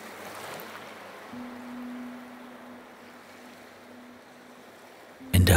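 Soft ocean surf rushes in a low, steady wash, faint and distant, with a quiet sustained hum running through it and a brief louder burst at the very end.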